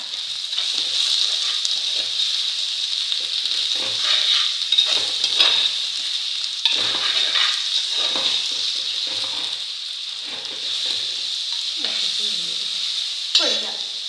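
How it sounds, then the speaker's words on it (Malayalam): Onions sautéing in a pan for a homestyle Kerala chicken curry, giving off a steady, loud hiss of frying oil broken by repeated scraping stirs. "ഇത് നമുക്കിതിലേക്ക് സവോള ഇടാം. എന്നിട്ടെല്ലാം കൂടെ വഴറ്റാം."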